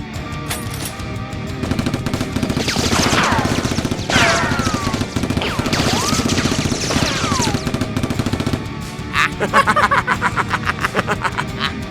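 Toy Nerf blasters fire in rapid bursts during a staged Nerf war between a commando and criminals, dense popping and clattering shots layered over a busy background, with a sharper flurry of shots near the end.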